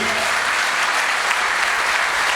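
A church congregation applauds and cheers for Jesus, a dense, steady wall of clapping that fills the room at full volume without a break.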